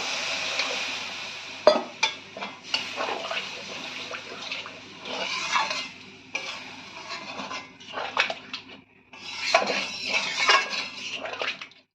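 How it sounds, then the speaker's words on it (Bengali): Water poured into cooked spice paste in a pan for a light fish curry, a close splashing pour with metal spoon and pan clatter between bursts, no talking. "এই সময় আমরা দিয়ে দিচ্ছি পরিমাণ মতন জল।"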